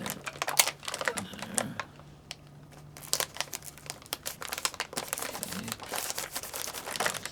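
Wrapping paper crinkles and rustles as it is folded around a present, with crisp crackling bursts, a short pause, then steady close crinkling and handling noises throughout.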